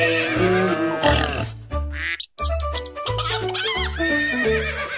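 A horse neighs in a children's farm-animal song, the whinny sounding loudly over bright backing music.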